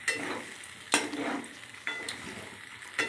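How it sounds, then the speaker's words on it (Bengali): Chicken masala with raw mango paste stir-fried in a pan for a sweet-sour curry: a soft sizzle under repeated sharp scrapes of a spatula, three distinct strokes spaced about a second apart. "ওটাকে পেস্ট করে ঢেলে দিয়ে এবার ভালো করে কষতে থাকলাম।"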